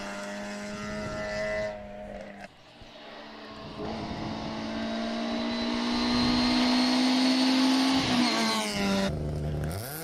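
A rally car at the start of a hill-climb run on a mountain course, its engine revving hard and loud, dipping briefly between gears, then surging in a long rising pull.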